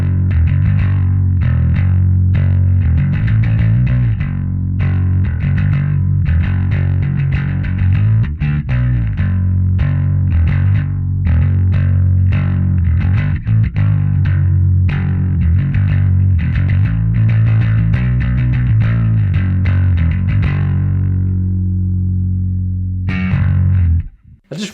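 Heavily distorted electric guitar through an Ampeg Venture amp with the gain turned fully up plays a dense, continuous riff of chugging chords and notes. It stays loud and up close, then stops abruptly near the end.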